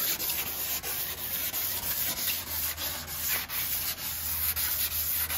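Steady back-and-forth scratching of 400-grit sandpaper over primer surfacer on a windsurf board repair, continuous and close with brief rhythmic dips between strokes.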